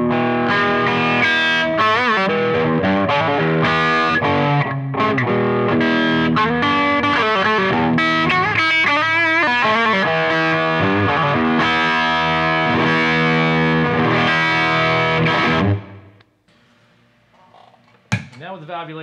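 Electric guitar through a Fryette LXII preamp in flat mode with the valvulator switched off, playing dense distorted riffs and chords for about fifteen seconds before cutting to near silence, followed by a brief handling knock.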